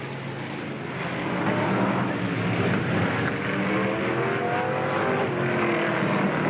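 BriSCA Formula 1 stock cars racing around an oval track in a 1991 veterans race, engines roaring steadily with rising and falling revs as cars slide through a turn, loud and continuous with crowd-level ambience.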